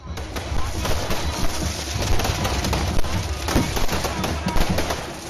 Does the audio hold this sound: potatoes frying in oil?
no